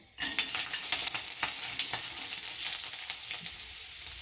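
Steady, crackling sizzle of garlic frying in hot oil, loud and close, with small pops scattered throughout and no voices.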